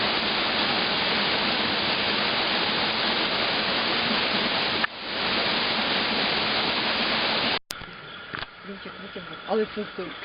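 Zhenetskyi waterfall in winter: a steady, close, loud rush of falling water fills most of the stretch, then drops away to quieter surroundings with faint scattered sounds at the end.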